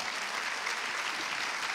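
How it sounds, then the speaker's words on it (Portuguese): A church congregation applauds for the Lord in a brief, dense, continuous burst of clapping that holds steady and sounds moderately distant. "Você pode dar uma salva de palmas para o Senhor?"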